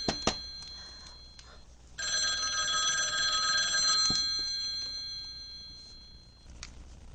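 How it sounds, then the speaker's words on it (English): A telephone rings with a sustained bright bell trill for about two seconds amid faint clicks and small knocks, then fades, with no voices. "Oh, the phone. I better go get it."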